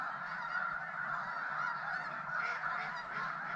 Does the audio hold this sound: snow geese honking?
yes